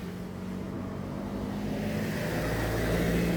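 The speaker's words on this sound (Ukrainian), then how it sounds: "Бачите, машина кудись." A car engine hums steadily nearby on a seaside road, growing slightly louder as it passes, with a low droning tone and broad rumble underneath.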